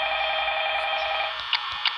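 A telephone rings in the Five Nights at Freddy's Mobile video game, a steady electronic ringing tone holding for over a second before giving way to brief clicks.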